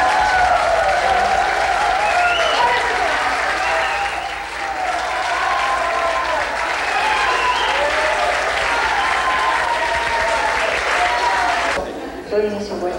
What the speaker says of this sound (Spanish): Quiero un aplauso para estos jóvenes que están muy nerviosos.